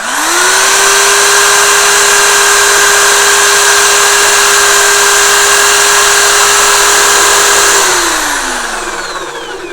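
An electric drill powered by an EBL 330 watt portable power station spins up and runs at a steady, loud whine with a strong harmonic hum, then winds down near the end of the clip.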